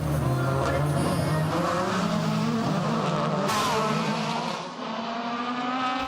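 DTM touring race cars fight through the final corner on the last lap, engines roaring loud and close with a dense, sustained drone, tires squealing and skidding as the cars jostle, and a brief lift in pitch near the end.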